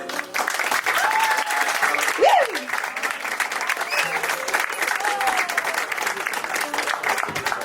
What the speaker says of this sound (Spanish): fuerte los aplausos para recibirlo.